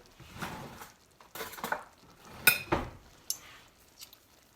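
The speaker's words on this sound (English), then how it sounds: "I get a spoon and then just go around the edge and remove that" A metal spoon scrapes around the edge of a pan used for cooking beef and beans, in several short bursts with clinks, close and fairly quiet, with no talk over it.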